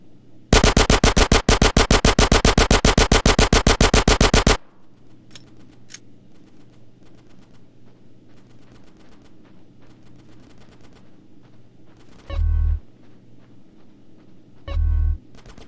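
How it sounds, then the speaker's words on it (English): Rapid automatic gunfire from GTA San Andreas rattles loudly for about four seconds, then stops, leaving a low game hum with two short heavy thumps later on. "Get some suppressing fire in there!"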